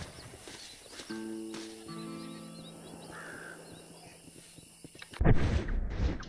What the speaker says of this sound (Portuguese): o cavalo já tá aqui já, mano.